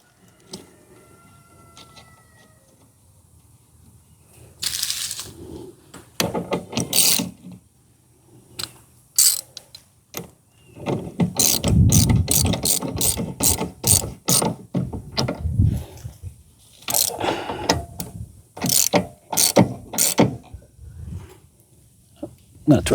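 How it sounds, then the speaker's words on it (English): A hand ratchet working a wheel stud on a zero-turn mower: bursts of rapid clicking strokes, close and clear, with pauses and some handling noise between them, and a voice now and then. "right now I'm going to try it with just a regular, ratchet, and we'll see what happens"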